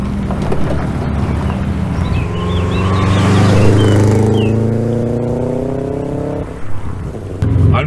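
Engine of a right-hand-drive Subaru Forester heard from inside the cabin while driving, a steady loud drone that swells as it accelerates through the middle and settles toward the end, with faint background noise.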